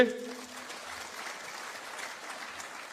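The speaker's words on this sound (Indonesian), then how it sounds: "Tepuk tangan dulu buat UCB." Fairly faint, steady applause from an audience at a university event, continuous clapping after a brief trailing voice at the start.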